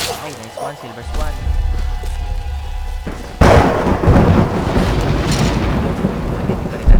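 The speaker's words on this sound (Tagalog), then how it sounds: "Pagdating pa rin natin yung bagyo." Thunder crashes during a storm in the Tomb Raider 4 video game, with a loud burst of rumbling thunder and rain noise partway through, while a voice talks throughout.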